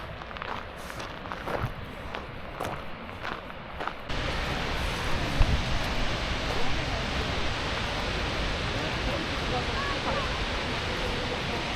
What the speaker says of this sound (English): We are at the Skogafoss Waterfall